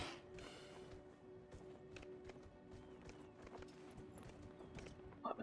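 Horse hooves clip-clop in the video game Dragon Age: Inquisition in a quick, steady rhythm, fairly faint, over a low continuous background hum.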